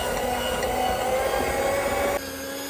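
Electric hand mixer beating sugar for tiramisu, a steady close whirring drone that holds evenly and then drops to a lower, quieter hum near the end.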